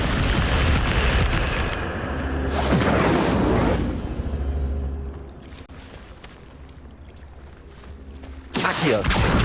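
A fire spell cast in Hogwarts Legacy gameplay sets off heavy whooshing booms and rumbling bursts, loud at the start, quieter in the middle, and swelling again at the end.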